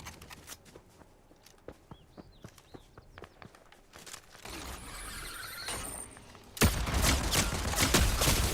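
Pistol gunfire in the Fortnite video game comes as a rapid series of sharp cracks, later mixed with louder, denser game action and impacts, with no talking.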